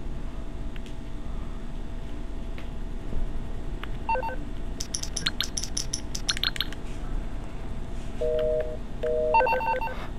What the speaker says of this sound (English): Why isn't he answering the phone?